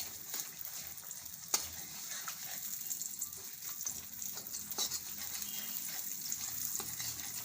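Jaggery melts in hot ghee in a pan for gund pak, giving a steady, moderately quiet sizzle with occasional scraping clicks from stirring, continuous throughout and with no voices.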